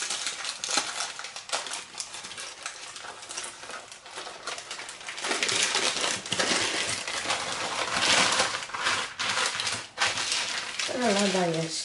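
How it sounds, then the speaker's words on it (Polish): A cooled chocolate sponge roll is peeled away from its baking paper, giving a continuous close-up crinkle and rustle of paper that swells louder toward the end, with no talking. "Roladę już mam ostudzoną i teraz należy odwinąć"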